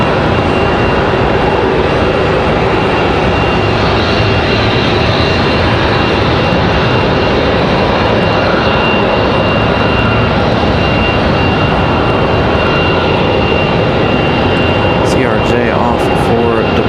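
An American Airlines Boeing 737 jet on the tarmac at Raleigh-Durham International Airport gives off a loud, sustained engine roar with a steady whine riding on top throughout.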